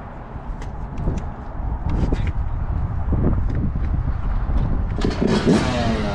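A 2019 Yamaha YZ125 two-stroke dirt bike, fresh spark plug fitted, runs with a rough buzzing idle that builds into a steadier drone, close by, with a few knocks and clicks early on.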